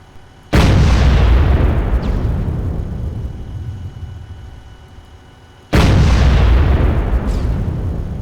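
M1128 Stryker cannon firing in the video game Arma 3, two heavy booming shots several seconds apart, each a sharp loud blast followed by a long rumbling decay.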